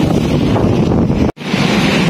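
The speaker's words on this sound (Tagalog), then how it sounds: "yung alon na sobrang lakas" Strong monsoon waves pound against a seawall while heavy wind buffets the microphone. The roar is loud and continuous, with a brief dropout partway through, and no one speaks.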